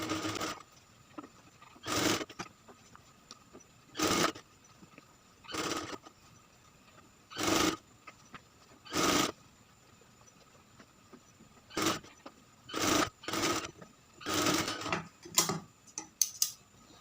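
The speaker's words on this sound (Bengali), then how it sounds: "এখন ওই পাশ থেকে সেলাই শুরু করব।" Sewing machine stitching a shirt collar to the body, running in short separate bursts of about a second each with quiet gaps between them, close and clear, with no talking.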